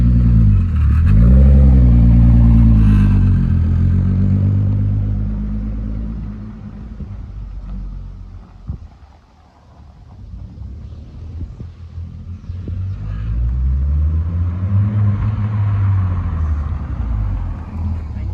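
A turbocharged VR6-swapped MR2 Roadster pulls away at around 1000 RPM with a deep, low rumbling drone heard from the cabin. The engine note dips briefly midway, then swells again as it rises under load.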